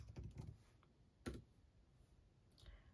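Typing on a computer keyboard: a few quick clusters of soft key clicks, close and quiet, with pauses between bursts and no talking.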